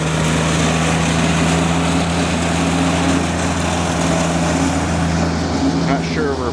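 A lawn mower cuts wet grass nearby, its engine running as a steady, loud drone with a constant low hum throughout.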